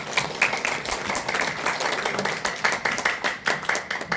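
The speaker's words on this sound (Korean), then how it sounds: "우리 경의의 박수로 모시고 가겠습니다" Congregation applauding at a church New Year thanksgiving service as the general assembly president comes forward, steady dense clapping from many hands filling the hall with no talk over it.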